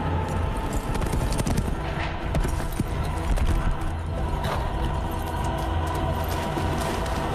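Horse hooves pound in a steady galloping clatter from start to finish in a video game, mixed with a dense wash of other game sounds at a constant level.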